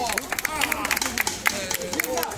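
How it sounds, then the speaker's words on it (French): A theme park show crowd claps in scattered, uneven bursts while a performer's voice carries over it, the clapping moderate and close, mixed with light crowd murmur. "On l'applaudit d'avance."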